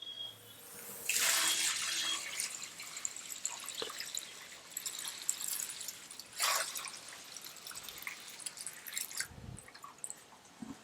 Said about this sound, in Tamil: இப்போ நம்ம இந்த கோதுமை பாலை அதிலே ஊற்றிக்கலாம்